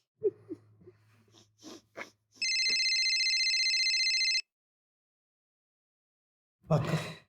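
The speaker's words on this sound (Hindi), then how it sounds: "अब आया फोन इसका।" An electronic phone ringtone sounds once, a steady bright tone lasting about two seconds, after some faint rustling and clicks; a short noisy burst follows.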